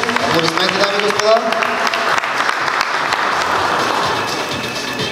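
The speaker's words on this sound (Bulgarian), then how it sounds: "Честито, аплодисменти, дами и господа." A crowd claps loudly and continuously at the Hyundai Racing Trophy 2015 awards ceremony, with enthusiastic applause that holds steady before easing slightly toward the end.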